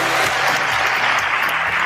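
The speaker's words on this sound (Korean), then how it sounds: "다시 한번 큰 박수 부탁드리겠습니다" An indoor lecture audience at a health-supplement seminar applauds, with dense, loud, continuous clapping from a large crowd throughout.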